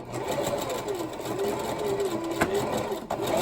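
Sewing machine back stitching on a bandana handbag, a steady close mechanical whir running throughout with a couple of brief clicks near the end.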